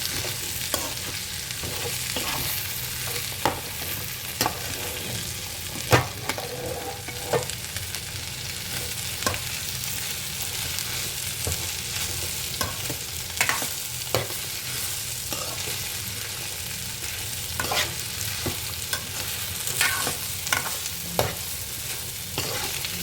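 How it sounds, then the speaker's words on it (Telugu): Pieces of food fry in an open pan, a steady close sizzle with the regular scrape and clatter of a spoon stirring and mixing throughout, no voices. "పీసెస్ బాగా వేసుకున్నాక అంతా ఒకసారి బాగా మిక్స్ చేసుకుంటే"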